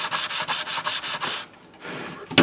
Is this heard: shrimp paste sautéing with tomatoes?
no